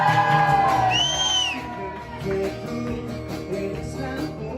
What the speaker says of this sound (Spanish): A ver, un grito de Valencia.